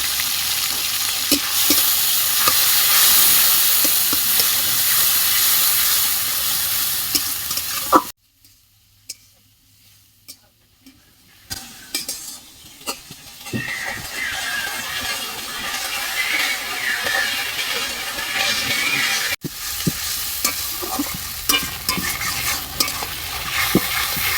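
Chopped tomato and a little ginger fry in a pan for Bengali moong dal and get stirred, a loud continuous sizzle with scraping strokes. It cuts out briefly, returns gradually, and carries on without voices.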